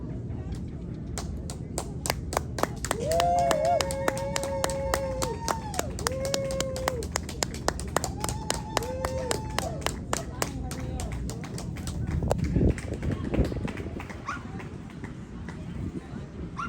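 Rapid, regular applause from a crowd at a dog show in Valley Center, California, with sharp claps running throughout, dogs barking and whimpering, and people talking.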